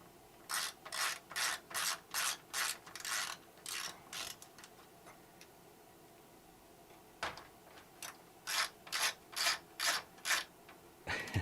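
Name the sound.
taking screws out of a Macintosh II chassis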